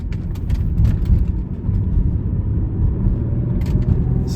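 A 1993 Ford Probe GT drives along with a steady, low engine rumble and road noise from inside the cabin, fairly loud and continuous with no talking.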